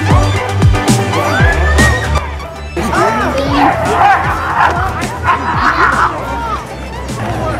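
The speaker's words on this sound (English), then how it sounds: "Now I know to a lot of you it sounds like the dog is barking" A dog barks and yips repeatedly at a crowded outdoor Night Out Against Crime community event, loud and close, over crowd noise and nearby voices, with some whimpering sounds and a brief clatter.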